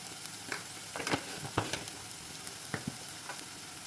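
Chili and coriander powder sautéing in a pan for Kerala tuna curry, a soft, steady sizzle with scattered stirring scrapes and clicks, close and fairly quiet, with no voices.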